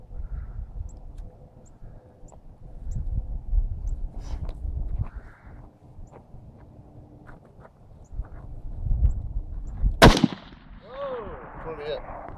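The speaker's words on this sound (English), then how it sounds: "He shot the top off the green one." A small rifle fires a single sharp, loud shot outdoors at target practice, cracking once and echoing after, with people chatting casually before it.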